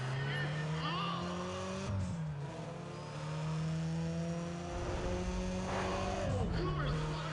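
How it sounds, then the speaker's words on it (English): Race car engines in the Need For Speed ProStreet video game drone and rev at a loud, steady level, with a shifting pitch and passing sweeps, and a little tire noise over it. "Will you listen to those engines?"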